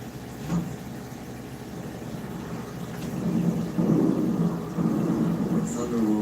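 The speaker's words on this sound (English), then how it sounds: "When thunder roars, head indoors." Thunder from a storm rolls as a low, continuous rumble that swells and fades, mixed with steady rain-like hiss in the background.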